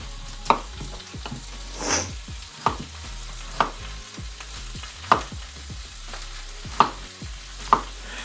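Potatoes and eggs frying in a pan, stirred with regular scraping strokes about once a second over a steady sizzle, close and clear with no talk.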